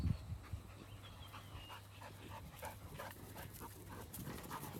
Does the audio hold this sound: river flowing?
no